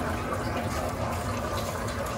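Water filling a food truck's onboard water tank, a loud, dense, continuous rushing and hissing flow that holds steady throughout with no talking over it.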